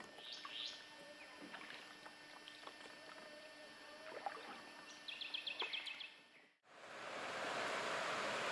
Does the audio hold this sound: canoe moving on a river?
yes